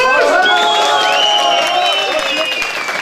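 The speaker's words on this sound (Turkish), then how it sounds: "Alkış!" A crowd at a political rally applauds and cheers loudly and steadily, with whoops and a strong voice carrying over the noise throughout.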